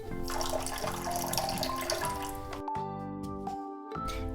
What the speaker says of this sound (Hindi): अब थोड़ा सा पानी डालेंगे इसमें, पानी थोड़ा और डालेंगे।